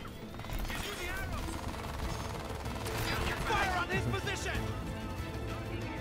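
Enemy gunfire in the shooter game Crysis 3, a sustained burst of rapid shots with some metallic mechanical clatter, running under someone talking throughout.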